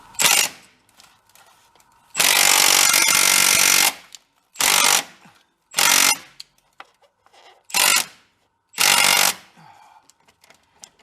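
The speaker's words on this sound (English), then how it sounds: "Hand on the wrench." A power tool is at work on a stuck bolt on a diesel Bobcat Toolcat side-by-side, with loud, close bursts of harsh rattling hammering, one long and several short, separated by quiet pauses.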